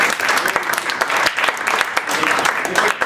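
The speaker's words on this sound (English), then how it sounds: "let's give a round of applause to Amy" An audience at a cannabis-education event claps for a speaker named Amy, a loud, lively burst of many hands with distinct sharp claps standing out from the steady crowd applause.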